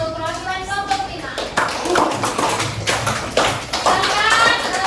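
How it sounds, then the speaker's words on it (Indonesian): A classroom group applauds a group representative, with a short burst of clapping and taps mixed with a voice speaking over it, close and fairly loud. "Beri tepuk tangan untuk perwakilan kelompok 5."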